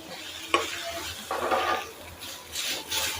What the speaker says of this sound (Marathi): आता ह्याच्यामध्ये मी अर्धा चमचा तेल टाकून घेते हे बघा थोडं आपल्याला तेल टाकायचं कांदा भाजायचा